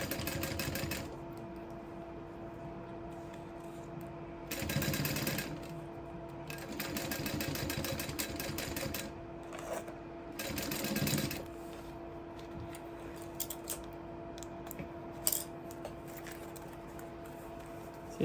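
A sewing machine top-stitches a leather sling bag, running in steady rapid bursts that speed up and slow down with short pauses between runs, close and clear with no voices.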